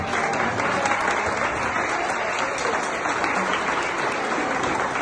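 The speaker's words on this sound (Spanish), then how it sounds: "recibámosla con un fuerte aplauso" Guests at a birthday celebration give a strong round of applause as the birthday woman enters: loud, continuous clapping from many hands, steady and unbroken for about five seconds, with no speech over it.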